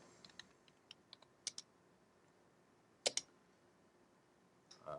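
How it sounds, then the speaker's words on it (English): Typing on a computer keyboard, sparse quiet key clicks tapped in small irregular groups with a couple of louder double taps, close and isolated in a hushed room. "I'm going to type the word volume 1"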